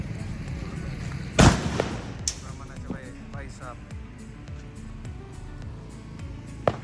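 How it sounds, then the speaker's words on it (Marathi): A jumbo sutli bomb firecracker goes off during a Diwali Lakshmi Puja celebration, one sharp loud blast followed by a few smaller distant pops and crackles, with voices talking over the background. "हा फटाका म्हणजे जम्बो सुतळी बॉम्ब आहे."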